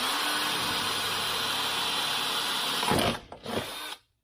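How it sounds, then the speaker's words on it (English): A power drill whines steadily at high speed, grinding through a metal bar while fitting rock sliders to a Polaris RZR, then stops abruptly with a couple of short bursts as the bit breaks, before falling silent. "I broke my drill bit in there"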